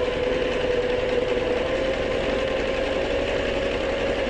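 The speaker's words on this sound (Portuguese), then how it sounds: "Vou vir para a máquina e vou costurar exatamente sobre a linha riscada." Sewing machine running steadily as it stitches fabric along a marked line for a bench seat cover, a continuous close motor hum with no pauses or voices.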